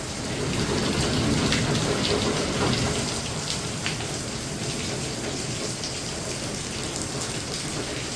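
Steady rain falls outside a house, a dense, even hiss of drops that holds a constant level throughout with no pauses.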